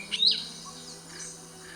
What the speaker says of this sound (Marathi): सोन कपाळी पर्णपक्षी म्हणजेच हिरवा बुलबुल पाहायला भेटला ज्याला इंग्रजीत गोल्डन फ्रंटेड लिफ बर्ड म्हणतात